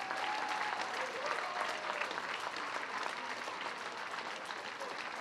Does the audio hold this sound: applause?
yes